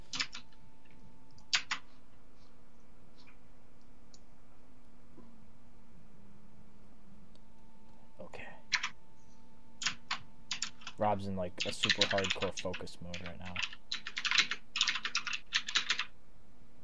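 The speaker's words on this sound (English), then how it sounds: "So you can hear him typing away." Computer keyboard typing in fast, dense bursts, quiet at first and then loud and rapid, with a person talking over the early part during an online golf game session.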